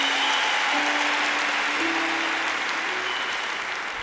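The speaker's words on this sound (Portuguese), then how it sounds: "Um forte aplauso para o meu pai" An audience at a church talk applauds, a steady wash of close, dense clapping that runs unbroken throughout with faint tonal hum beneath.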